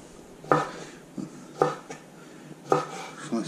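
A knife cuts a pickle on a board for a homemade burger, giving three sharp slicing knocks about a second apart, each with a short crisp scrape, close and fairly loud with no talk.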